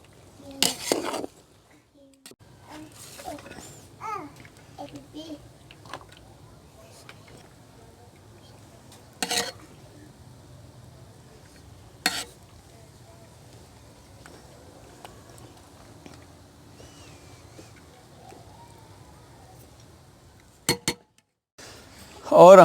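Hariyali pulao rice being served out of a cooking pot, with a few sharp, scattered utensil clinks against metal over a quiet, low background hum.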